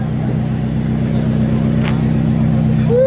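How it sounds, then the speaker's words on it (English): A BMW M5 idles with a steady deep engine drone close by at a cars-and-coffee meet, holding a constant rumble with a brief rising rev near the end. "Now an M5 is starting."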